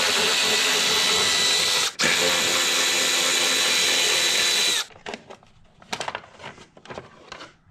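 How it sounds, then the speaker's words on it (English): A power tool whirs loudly and continuously for several seconds, briefly cut off once, while two 10mm bolts are removed from a BMW E46 engine. Afterward come lighter clanks and handling sounds. "Next, we're gonna remove these two 10mm bolts."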